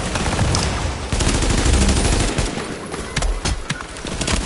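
Rapid automatic gunfire from a video game crackles in dense bursts throughout, loud and close, with brief gaps between volleys.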